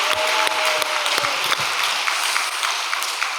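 Applause from a congregation at a church service, a dense wash of clapping that starts with a few sharp claps and fades toward the end.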